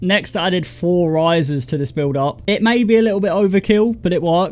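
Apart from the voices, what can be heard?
None of the usual background noises is heard.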